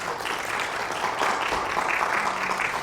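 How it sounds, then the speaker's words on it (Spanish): A church congregation applauds during an evening sermon, a dense, continuous burst of many hands clapping without speech. "¿Quiere darle un aplauso a Dios en esta noche?"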